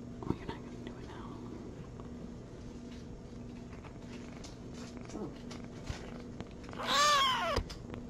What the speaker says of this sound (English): Can you hear him purr?